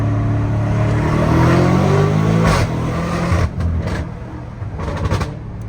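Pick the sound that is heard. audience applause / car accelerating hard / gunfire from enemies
car accelerating hard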